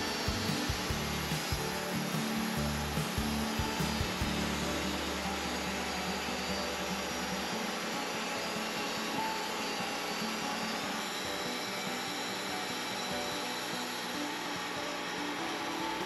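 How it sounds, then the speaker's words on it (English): Wood-Mizer sawmill quarter sawing a big Douglas fir log, a steady mechanical whine and grinding drone with a lower rumble early on, continuous and fairly distant. "it always takes a lot of time to quarter saw a big log"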